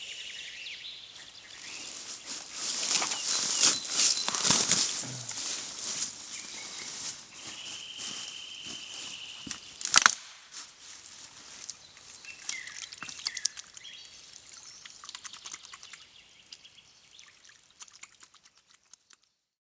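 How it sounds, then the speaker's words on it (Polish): A sizable forest stream in the Bieszczady mountains flows steadily nearby while hands are rinsed in it, giving soft splashes and trickling, with faint birdsong and a sharp knock around the middle. "Ja skorzystam z tego, że woda tutaj elegancko płynie i troszeczkę umyję ręce."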